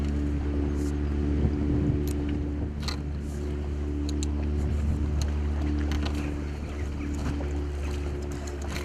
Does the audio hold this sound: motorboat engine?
yes